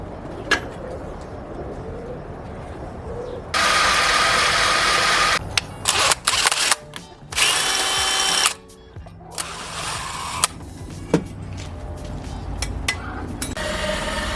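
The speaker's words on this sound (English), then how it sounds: "we're tapping the housing 1/8 inch NPT to run the air lines over to the max sensor" A tap cuts 1/8 inch NPT threads into a turbo housing in a garage, giving intermittent loud bursts of grinding and whirring with short pauses and clicks between them.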